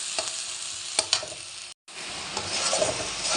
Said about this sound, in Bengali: মাছগুলো এদিকে ভাজা হয়ে গেছে, এদিকে মশলা দিয়ে দিচ্ছি কষানোর জন্য।